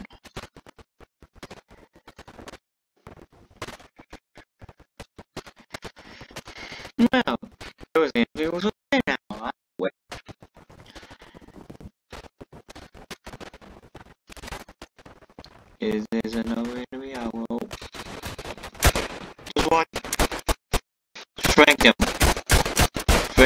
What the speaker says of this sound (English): I am no longer afraid of using this machine gun.